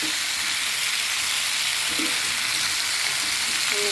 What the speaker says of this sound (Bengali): এরকম আমার সিমটা আর আলুটা ভাজা হয়ে গেছে।